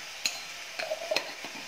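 A utensil gives several brief stirring scrapes and clicks in a pan of hot oil, with a faint sizzle between them, as mustard seeds and urad dal begin to fry.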